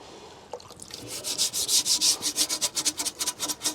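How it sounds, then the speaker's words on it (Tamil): Salt stains are scrubbed off a fish tank with quick back-and-forth strokes, a rhythmic rubbing scrape that starts after a brief pause and speeds into a steady, close series of swishes. "நல்லா இப்போ தேய்ச்சி விட்டுக்கிறேன்"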